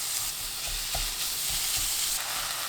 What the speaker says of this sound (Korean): 센 불로 소고기를 볶아주세요.